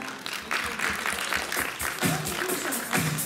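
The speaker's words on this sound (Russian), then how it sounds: "Давайте их поприветствуем бурными аплодисментами" A concert audience greets the band with loud, steady applause, dense clapping filling the hall for a few seconds without pause.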